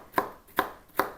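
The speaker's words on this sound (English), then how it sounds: "I'm just chopping the nuts up as fine as I can" A knife chops nuts for a chicken salad on a board in three crisp, evenly spaced knocks, close and clear with nothing else heard.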